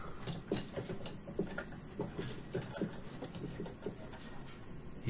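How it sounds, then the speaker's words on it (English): Clamps being ratcheted tight around a glued wooden drawer box in a wood shop, giving a steady run of quick mechanical clicks and ratcheting ticks, close and moderately loud, with no talking. "And now we'll put the clamps on."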